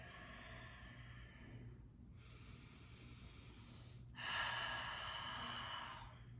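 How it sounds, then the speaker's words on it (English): Slow, deep breaths during a yoga hip stretch: two long, airy exhales, the second louder and closer, over quiet room tone. "Breathing nice and deep"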